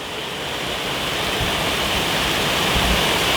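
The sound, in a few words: fast-flowing water rushing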